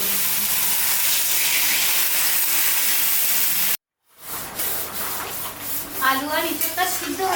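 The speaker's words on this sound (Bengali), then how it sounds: "এর মধ্যে এবার জল দিয়ে দেব।" Water hits a pan of frying jackfruit curry with a loud, steady sizzling hiss that cuts off abruptly, then gives way to softer bubbling and clinking as the pan settles.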